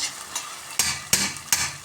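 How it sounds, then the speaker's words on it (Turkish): Onions sizzle quietly in olive oil with tomato paste in a pan while a spatula scrapes and stirs three times at an uneven pace, close and clear with no talking. "Zeytinyağında salçasıyla birlikte Şöyle güzelce kavuruyorum."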